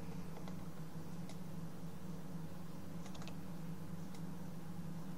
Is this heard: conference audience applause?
no